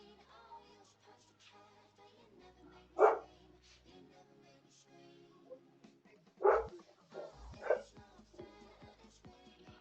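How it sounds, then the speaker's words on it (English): A pet dog barks a few times at a distance, short sharp yaps separated by seconds, faint beneath someone talking steadily close by in a quiet room. "Sorry for barking in the background. I can't control my dog."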